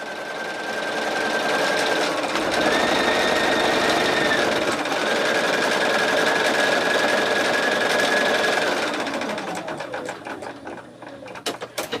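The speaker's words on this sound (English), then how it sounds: "It's just going to do that outer edge. That is going to let me know that is where my stitch line is." A Bernina B 790 Pro embroidery machine stitches a placement line with a fast, steady mechanical rattle and motor whine for several seconds, then slows into separate clacking stitches before stopping.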